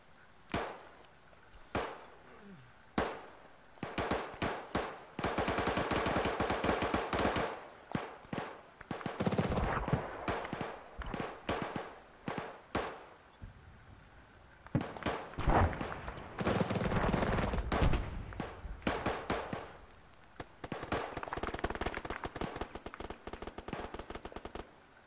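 Gunfire in ARMA 3: sharp single shots early on, then long bursts of machine-gun fire and fusillades in several waves, loud and close with echoing tails and brief quiet gaps between bursts.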